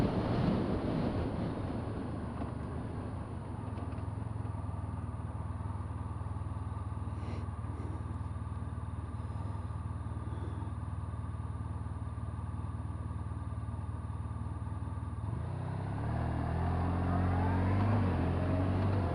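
A 2013 Honda VFR1200X Crosstourer V4 motorcycle rides through a city with a steady low engine drone under wind rush. Near the end the engine revs rise and the note lifts.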